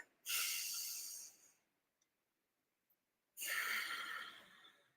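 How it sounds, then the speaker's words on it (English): Two deep breaths, each a long airy rush lasting over a second, are separated by a quiet pause. They are close and clearly audible, with no talking. "taking conscious control of our breathing. So try it really quick. Breathe in deep."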